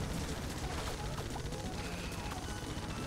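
Dense rapid blasts from The Binding of Isaac: Repentance pile into a constant loud broadband roar, explosions overlapping with no gaps, with faint voice traces mixed in.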